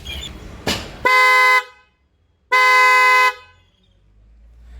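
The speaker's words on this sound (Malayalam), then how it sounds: "നമ്മൾ ഹെല്ലയുടെ ബ്ലാക്ക് പേൾ എന്ന് പറഞ്ഞൊരു ഹോണാണ്" Two long, loud Hella Black Pearl aftermarket horn blasts on a 2023 Maruti Suzuki Fronx, fitted in place of the factory horn; bright, rich tones heard up close with a short silent gap between them.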